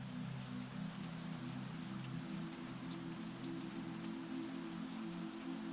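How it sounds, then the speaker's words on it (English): Steady rain drums on the roof of a terrace in Japan, a continuous, even patter with a low hum beneath it and no voices. "listening to the rhythmic drumming of the rain on the roof of the terrace."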